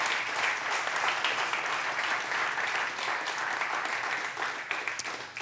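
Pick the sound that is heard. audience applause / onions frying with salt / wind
audience applause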